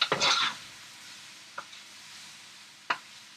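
Smoked ham cooks in a pot of French Canadian pea soup with smoked sausage, onions and bay leaf: a short burst of stirring and sizzle opens, then a soft steady hiss broken by two sharp utensil clicks.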